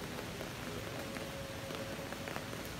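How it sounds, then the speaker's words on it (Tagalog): Steady rain falls during a typhoon, a continuous close, even hiss of drops on surfaces with no talk over it. "maulan mga kalingap"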